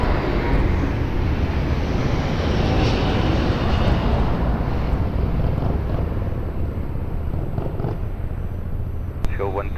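An airliner on approach to land on runway 02 at Lisbon Airport gives a loud, steady engine roar with wind buffeting that eases slightly toward the end.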